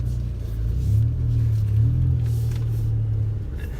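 A 2018 Ford Raptor pickup truck with the Rocky Ridge Stealth Package backs up slowly, its engine giving a steady, close, low rumble that swells slightly without hard revving.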